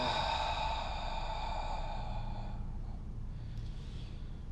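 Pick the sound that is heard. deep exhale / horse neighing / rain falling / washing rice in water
deep exhale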